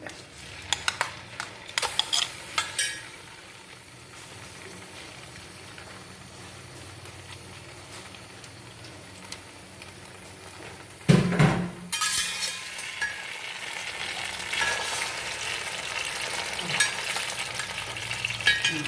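Tender coconut paste cooks in ghee for paayasam while being stirred: scattered clicks of a utensil at first, a quiet simmering stretch, then a sudden loud clatter followed by a livelier sizzle with repeated stirring scrapes.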